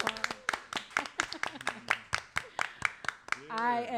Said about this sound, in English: Can we give her a round of applause?